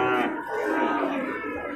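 Cattle on an Indonesian farm with breeding cows and calves, one loud, drawn-out moo close by that holds for nearly two seconds.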